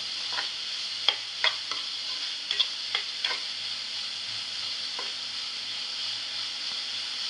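Onion and crushed garlic sautéing in a pan: a steady background sizzle broken by a handful of sharp clicks and taps from stirring, with no talking.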